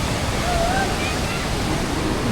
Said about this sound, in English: There's small waterfalls.